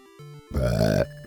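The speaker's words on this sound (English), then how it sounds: "Sorry, I burped." A single loud, close burp lasts about half a second, set against faint electronic music from a Fire Emblem Gaiden game playing in the background.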